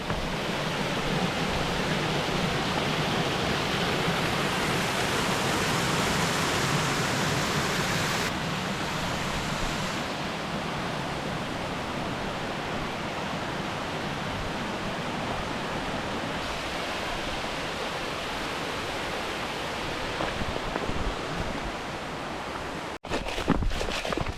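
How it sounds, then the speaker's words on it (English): Steady roar of a waterfall beside a trail during a mountain 50K trail race, loud and continuous broadband rushing water with no voices, ending in a brief handling knock. "I kind of just want to get this waterfall."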